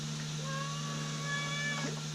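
A cat meows in a garage, one drawn-out meow heard fairly close over a steady low electrical hum.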